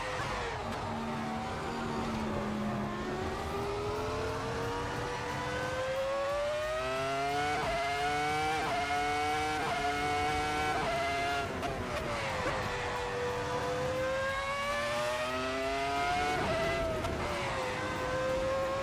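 Sustained engine drone of a Volvo D5 diesel car in a driving simulator, revs climbing and dropping through repeated gear shifts, steady and loud with no voices.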